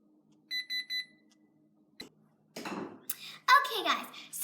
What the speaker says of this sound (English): so the timer is done